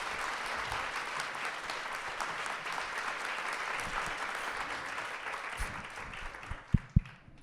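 An audience claps steadily in welcome for a speaker at a law school tribute event, a dense, even applause that holds for several seconds before thinning out, with a couple of sharp thumps near the end.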